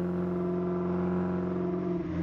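Alfa Romeo Spider engine droning steadily under load on a road trip from Finland to Italy, a continuous close mid-pitched hum with a slight dip near the end, heard alone.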